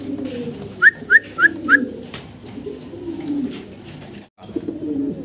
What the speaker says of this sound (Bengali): স্প্যানিশ দেখেন ডাকটা দেখেন, চমৎকার ডাক। এই হচ্ছে নর ডাকতেছে